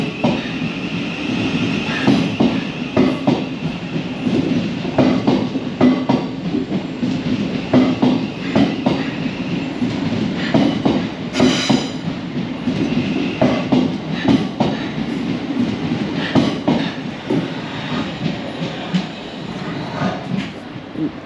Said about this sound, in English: And you've got a train coming the other way.